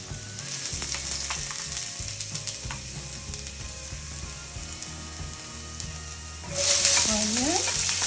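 Garlic sizzles in about two tablespoons of olive oil in a pan while baked ziti is being made. A steady, close frying hiss runs throughout with occasional stirring scrapes, then swells louder near the end.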